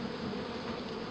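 Close, loud, steady buzzing drone from a swarm of bees being hived, unbroken for the whole moment.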